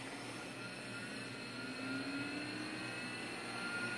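A three-phase motor running on 12 volts spins up with a faint, steady mechanical whine and hum that swells slightly partway through, heard alone without voices.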